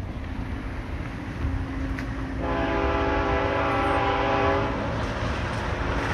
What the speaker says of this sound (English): we got a BNSF freight train heading north